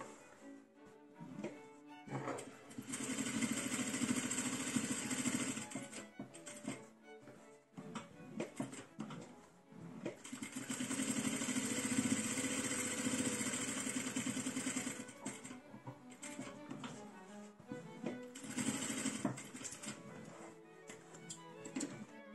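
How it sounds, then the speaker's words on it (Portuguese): Domestic sewing machine running a safety seam along a quilted mug rug, with several sustained stitching runs broken by short pauses, soft and close with faint handling noises between. "Agora, eu vou fazer a costura de segurança aqui."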